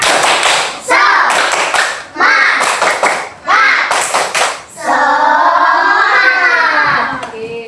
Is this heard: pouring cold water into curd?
no